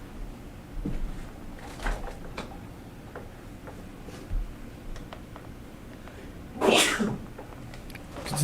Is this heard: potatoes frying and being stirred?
no